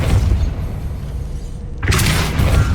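A magic blast spell cast in the Hogwarts Legacy video game, a loud booming burst that swells suddenly near the end after a rumbling low background, with no talking.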